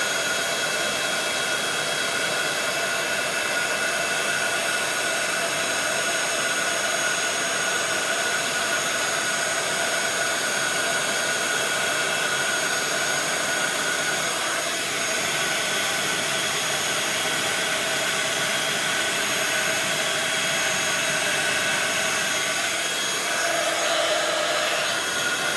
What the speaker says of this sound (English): I'm just going to quickly heat this out of the camera so I can do it a bit quicker